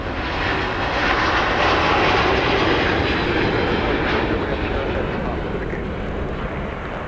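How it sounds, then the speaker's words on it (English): A Delta Airbus A350-900 jet departs Minneapolis–Saint Paul in winter, its engines a loud, steady roar that builds and then slowly fades, with a voice heard beneath. "Delta's flagship aircraft, the A350-900, off to Seoul, Korea, Incheon Airport"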